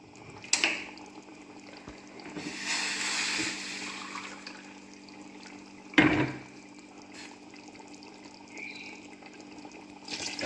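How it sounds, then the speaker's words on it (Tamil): Water pours steadily into soaked basmati rice in a pot for a 1 kg chicken biryani, six glasses measured in, with a sustained splashing rush, a sharp knock partway through and faint kitchen hum underneath. "6 கிளாஸ் தண்ணி ஊற்றிக்கிங்க."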